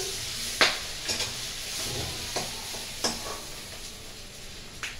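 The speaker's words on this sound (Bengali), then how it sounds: "মাছটা ভেজে নিলাম আমি এখন।" Hilsa fish fry in hot oil with a soft, steady sizzle, broken by several sharp clinks and scrapes as the pieces are stirred and turned.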